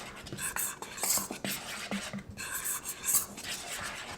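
A spoon or whisk scrapes and clinks around a bowl while flour, baking powder and salt are mixed together, with quick, close, continuous rubbing strokes and brief pauses.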